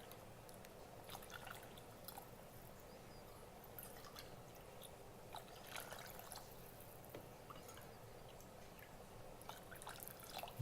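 Water poured into an Instant Pot holding quinoa and soaked beans makes a soft, steady trickle and splash, faint and continuous throughout with no talking.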